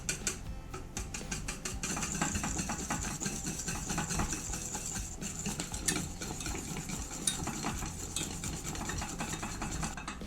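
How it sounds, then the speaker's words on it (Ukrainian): Steady scraping and swishing of a whisk beating honey cake batter in a bowl, continuous and close, with no voices. "Перемішую вінчиком, аби не було грудочок."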